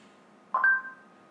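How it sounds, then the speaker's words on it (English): Google Assistant chime on an LG XBOOM Go portable speaker: one short, clear two-note electronic tone that rises and holds briefly before fading, with only a quiet room hum before and after. "You'll know it works when you hear the Google Assistant tone"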